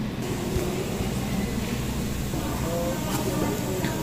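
Inside a moving passenger train at night on the way to Jinan, Shandong, a steady low rumble and rattle fill the carriage, with faint voices in the background.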